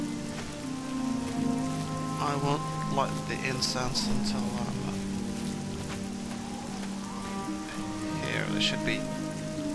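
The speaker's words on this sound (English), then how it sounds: "it's kind of raining right now," Steady rain in the video game Oblivion pattering on surfaces, a constant hiss beneath someone talking calmly, with occasional soft tones in the background.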